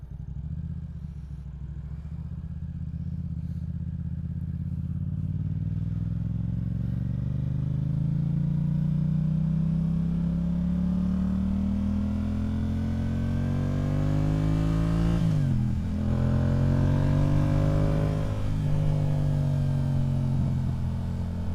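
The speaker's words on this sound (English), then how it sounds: "And we got to hit those crispy downshifts." A motorcycle on a ride to work, its engine note climbing steadily under acceleration before dropping sharply at a downshift and pulling up again, loud and close with continuous road and wind rumble.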